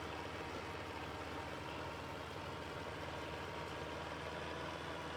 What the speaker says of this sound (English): Oh, come on, tractor. You can pull us up the hill.